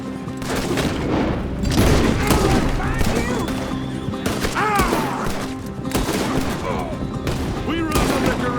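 Gunfire from a mounted chase in Red Dead Redemption 2, with repeated sharp shots and bursts scattered throughout, loud and close, alongside shouting voices and horse sounds underneath.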